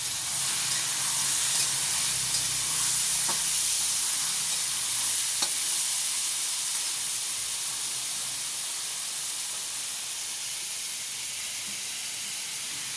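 Potatoes fry with a bay leaf in hot oil, giving a steady, loud sizzle and hiss that runs unbroken throughout, with only a few faint clicks and no talking.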